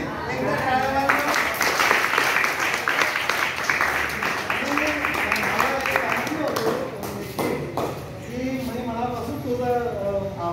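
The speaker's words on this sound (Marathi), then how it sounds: "एकदा टाळ्या वाजवा" An audience at a birthday gathering claps steadily throughout, a dense patter of hands with voices murmuring and talking underneath.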